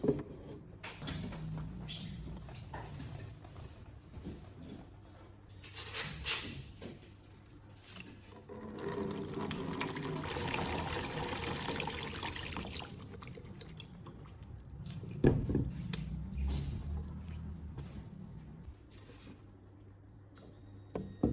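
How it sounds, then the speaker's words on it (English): Water pours into an old lead-acid battery for a final rinse and drains out, a steady liquid splashing and trickling that swells for several seconds in the middle and comes and goes quietly around it. "I will pour in more water for a final rinse and let it drain"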